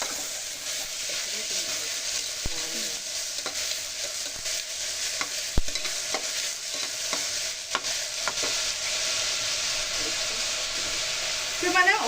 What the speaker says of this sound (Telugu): మనం ఆ ఉల్లిపాయలు తిప్పేసుకోవాలన్నమాట.